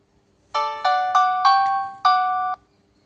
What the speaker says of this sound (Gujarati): આ ફોન આ રીતે ઓન થાય છે જો